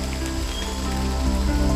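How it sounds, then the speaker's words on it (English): Rain falls steadily in a garden with a soft, continuous patter of drops on surfaces, fairly close, along with some faint tonal background sounds. "Do you hear the rain?"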